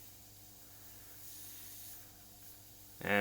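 Airbrush spraying paint on a Joker artwork, a faint, steady close-up hiss of fine spray with slight swells, ending in a sudden louder burst.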